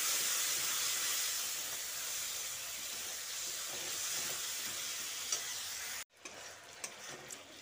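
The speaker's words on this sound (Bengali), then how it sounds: "মশলাটা দিয়ে ভালো করে কষিয়ে নিচ্ছি।" A spice paste being stir-fried in a pan for a potato and pointed gourd curry in yogurt gives a loud, continuous sizzle and hiss with occasional stirring scrapes, dropping sharply near the end to quieter clinks.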